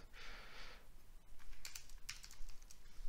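Keys on a computer keyboard are pressed for a Windows key plus S search shortcut, giving a few soft, close clicks and taps in a quiet room.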